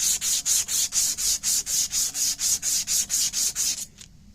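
A rifle barrel is worked over with 150 grit sandpaper in about fifteen quick, even rasping strokes, close and steady, before the rubbing stops.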